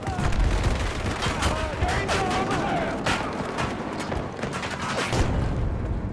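Dense, chaotic gunfire in a Battlefield 2042 match, with rapid bursts and overlapping shots, mechanical clatter and explosions, loud and close throughout, while a player's voice comes and goes over the fighting.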